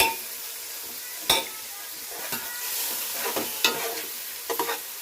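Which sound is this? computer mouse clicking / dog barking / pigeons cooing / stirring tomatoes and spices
stirring tomatoes and spices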